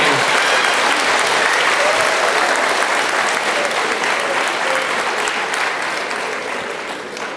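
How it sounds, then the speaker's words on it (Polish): An audience at a stand-up comedy show breaks into loud, sustained applause, a dense wash of clapping that carries on and gradually fades toward the end. "Wielkie brawa dla Oliwii."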